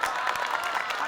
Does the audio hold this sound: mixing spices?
no